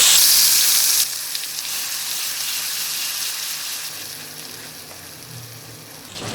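A ground spice paste hits hot oil with cloves, cinnamon, cardamom and shahjeera in a pan for a soy paneer curry: a loud hissing sizzle for about a second, then a steady, softer frying crackle.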